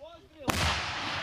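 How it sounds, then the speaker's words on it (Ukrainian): A howitzer fires a single loud, sharp boom that rolls into a long sustained rumble, heard outdoors by a Ukrainian artillery crew working the gun. "постріл за пострілом гармаші відправляють росіянам снаряди"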